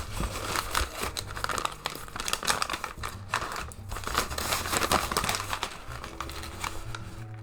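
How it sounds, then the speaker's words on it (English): Original Xbox games being unwrapped from thick brown paper produce loud, continuous close-up crinkling and crumpling with sharp tearing bursts over a low steady hum. "they're nicely wrapped in this sort of thick brown paper, which is probably really noisy on the mic"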